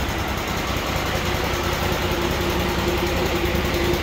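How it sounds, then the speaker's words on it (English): Engine of a Norwood LM30 portable sawmill idling, a loud, steady, continuous drone with an even low hum and constant level throughout, heard alone without voices. "That's an engine."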